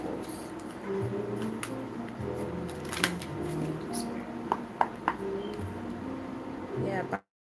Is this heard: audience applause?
no